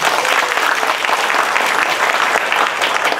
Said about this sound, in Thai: ปรบมือเซอร์นิติน